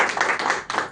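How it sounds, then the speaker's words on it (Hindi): Indoor audience applause at a gathering, a brief burst of several quick claps in an uneven rhythm over about a second, close and moderately loud. "एक और तालियां"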